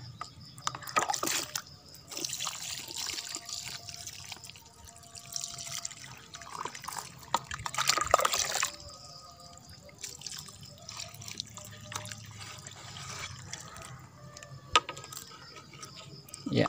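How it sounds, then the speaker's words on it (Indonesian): Water is poured over a newly planted banana plant, a soft continuous trickle and splash with scattered drips running steadily for the whole stretch, fairly close and moderate in level. "sekarang kita siram dengan air sahabat ya"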